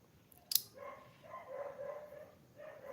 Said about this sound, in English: That's a dog that is back here.